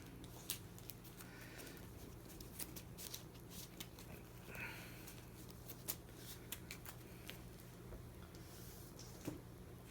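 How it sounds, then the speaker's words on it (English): A deck of cards for a Marvel Avengers deck-building game is shuffled by hand, soft, quiet riffling and patting with small taps throughout, close but faint. "First of all, I need a shuffle."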